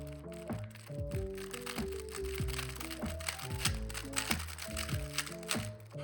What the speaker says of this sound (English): This is what the regular version 100 sounds like up close.